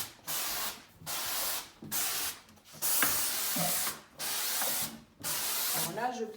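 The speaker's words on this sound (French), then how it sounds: "Alors on actionne la vapeur et on lâche" A Vapodil steam cleaner blasts steam against a glass bay window in repeated hissing bursts of about a second each, separated by short pauses, loud and close.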